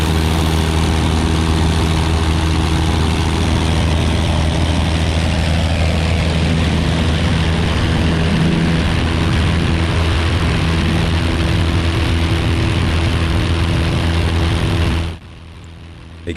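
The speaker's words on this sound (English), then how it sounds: "We're heading south today, departing runway 20." Light propeller airplane departing runway 20 at Keene, New Hampshire, a loud continuous engine drone with a steady low hum heard from inside the cockpit, cutting off abruptly near the end.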